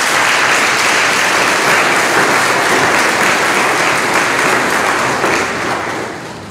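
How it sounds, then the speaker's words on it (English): A church congregation applauds the fathers present, a loud, full round of clapping that holds steady and then tapers off toward the end, with no talk. "Let's give all of our dads here a round of applause."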